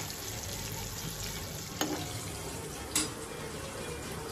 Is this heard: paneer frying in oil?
yes